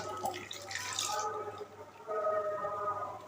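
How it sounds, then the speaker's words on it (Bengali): Milk poured into a pot of nearly cooked Gobindobhog rice for payesh, a soft liquid splashing and trickling that swells in the second half, with a low steady hum beneath. "দুধটা আমি ঢেলে দিচ্ছি"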